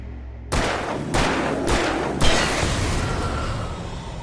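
Four sharp gunshots ring out in quick succession in Alan Wake, each a loud crack followed by a reverberating tail that lingers into a dark, echoing space.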